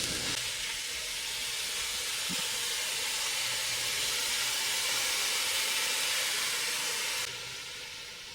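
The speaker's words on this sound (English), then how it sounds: "in go the mushrooms" Mushrooms cook in a pan over medium heat, giving a steady, broad hiss of sizzling that holds evenly for several seconds before dropping slightly softer near the end; a single faint knock is heard early on, and nobody speaks.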